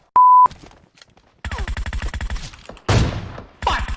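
Gunfire in a shooter video game: a short beep, then rapid automatic bursts with sharp cracks and a louder blast near the end, up close and loud, with a brief pause between volleys.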